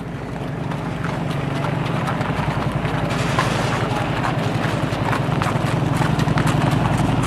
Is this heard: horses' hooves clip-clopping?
yes